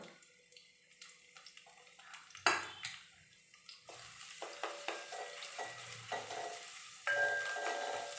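Crushed ginger, garlic and green chili hit a pan of lightly browned onion for a country-style chicken curry, giving a moderate sizzle with stirring and pan clatter in several bursts, no voices.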